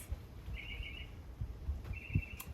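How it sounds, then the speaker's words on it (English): Birds chirp outdoors on a hot, breezy day: two faint, brief chirps set apart by a pause, over soft wind and low rumble, with no talking. "the birds are chirping, the breeze is hitting me, it's hot."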